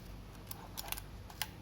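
Minolta SR101 film camera with a 50mm f/1.7 lens, shutter set to B, gives a few crisp mechanical clicks and a short ratcheting film-advance, close and alone in a quiet room.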